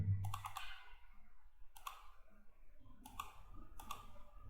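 Computer mouse clicks during a software tutorial, sharp isolated clicks in small bursts near the start and then singly about every second, close and fairly quiet over a low hum.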